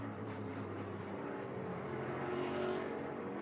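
A NASCAR race car engine holds a steady, droning roar at full throttle during the Ambetter Health 400, heard faint and distant.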